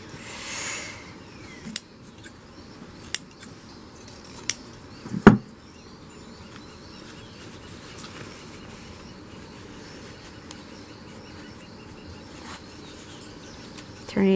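Scissors snip the corners of a piece of reusable family cloth, a few sharp, separate cuts over a steady low background hum, with one louder snip near the middle.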